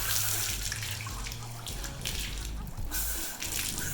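Water running and splashing as shampoo is rinsed out of a horse's tail, a steady close gush like a tap or hose pouring continuously for several seconds.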